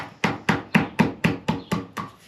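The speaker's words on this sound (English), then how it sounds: "take a piece of gasket paper that is going to fit the top, put it over it, take a ball peen hammer," Ball peen hammer tapping gasket paper laid over a part on a rare 1954 Cat No.6 shovel pony motor, eight sharp, evenly spaced close knocks in a steady rhythm, with no talk.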